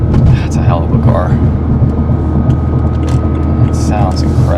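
Engine of a 1977 Porsche 911 S with the top down, a loud, steady low rumble with a couple of brief throttle blips, recorded close up while people talk over it.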